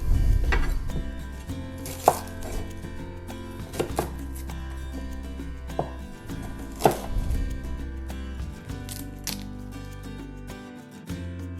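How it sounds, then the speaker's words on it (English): Knife chopping onion and capsicum on a cutting board, a run of irregular close knocks and crisp slices over a faint background hum, some cuts sharper and louder than others. "cut up my onion, cut up my caps"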